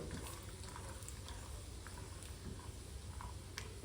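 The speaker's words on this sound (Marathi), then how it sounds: "शेंगदाणे तेलामध्ये आपल्याला मस्त असे तळून घ्यायचे आहे" Peanuts deep-frying in hot oil give a continuous, dense bubbling hiss, even and fairly quiet, with no voices over it.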